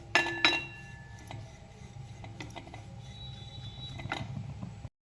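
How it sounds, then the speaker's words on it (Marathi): Grated dried coconut being stirred as it roasts in a pan for bakarwadi, with a couple of sharp metal clinks at the start, soft steady scraping throughout and another clink near the end; no talking. "इथं बघा आता मी खोबरं भाजून घेणार आहे याला पण एकसारखा कलर असा येईल असं भाजून घ्यायचा आहे आपल्याला एकसारखा हलवत राहायचं आहे"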